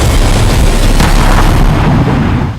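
An explosion from a Russian hypersonic Kinzhal missile strike on an underground depot sounds as a loud, sustained booming roar that rumbles continuously before easing off slightly at the end.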